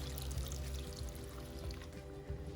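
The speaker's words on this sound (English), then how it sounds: "we're going to pour in the rest of our water" Water is poured into an Instant Pot of vegetable biryani, a steady close pour with a low, continuous liquid rush.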